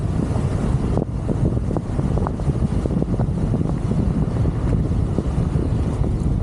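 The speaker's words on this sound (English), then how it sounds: "this wind picked up horrendously" Strong gusting wind buffets the microphone while riding a Wolf King GT Pro electric unicycle down a mountain road, a constant loud roar with low rumbling bursts and no voices.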